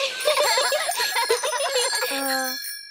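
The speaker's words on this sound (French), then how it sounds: "Pouvez-vous nous montrer que vous savez faire marcher votre sonnette?" A cartoon bicycle bell rings in a quick run of bright metallic dings, then one final ring lingers and fades out.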